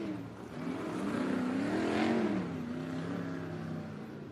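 A race car engine in a Bakersfield Speedway heat race drones at a distance, rising and falling in pitch as the car passes around the track, steady and moderately loud.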